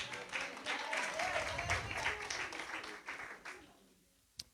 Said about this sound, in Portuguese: Aplauda ao Senhor, faz favor.